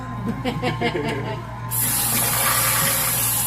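Running water from a tap while long hair is washed at a sink, first a softer splashing, then a sudden loud, steady full-force rush that continues to the end.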